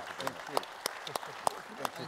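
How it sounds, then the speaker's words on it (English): Scattered, sparse hand claps from the audience at a leadership panel debate, a handful of distinct sharp claps rather than full applause, with a voice talking over them. "can we give them a big round of applause?"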